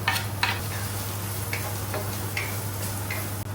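Chopped onion and green chilies with nigella seeds sizzle in hot oil, giving a steady hiss broken by light scattered crackles and spoon ticks over a low constant hum.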